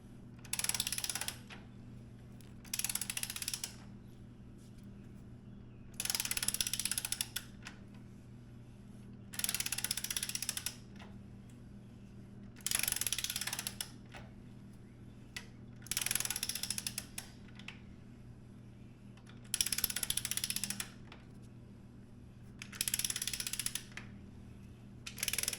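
Clicking ratchet tightening frame slider bolts on a 2023 MT-10 motorcycle, in repeated bursts of rapid clicks separated by short pauses over a low steady hum, close and fairly quiet.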